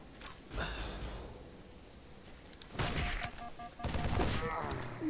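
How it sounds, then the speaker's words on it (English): Grenade blasts going off in a Halo 3 Forge match, two loud, broad bursts about a second apart after a quieter stretch, with a voice talking now and then underneath. "Oh, that's a lot of grenades."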